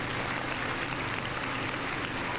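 Steady round of applause from a podcast studio audience, a dense even wash of clapping that fills the whole moment without pause.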